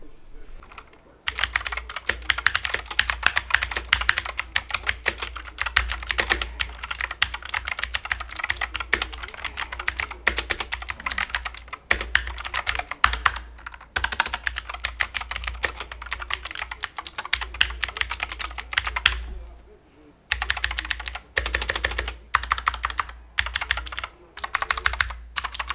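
Continuous close-up typing on a RAKK Kimat XT 2 Anniversary Edition mechanical keyboard with brown switches, a dense, rapid patter of clacky keystrokes with a brief pause near the end.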